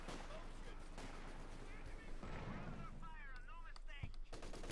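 Rapid bursts of gunfire and distant explosions rattle through a Company of Heroes 2 battle, thick and continuous, with a commentator talking over the din.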